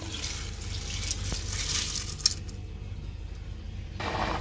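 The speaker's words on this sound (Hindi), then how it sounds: "अब मैं इसमें चावल डालने वाला हूँ।" Rice is poured into a pot of already-heated water while cooking methi rice, giving a soft rushing, splashing pour up close that drops away after a few seconds, with no one talking.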